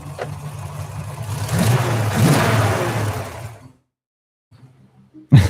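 A car engine revs up loudly, rising and swelling for a few seconds before cutting off to silence, then a faint murmur and a sudden loud burst of engine noise return at the end.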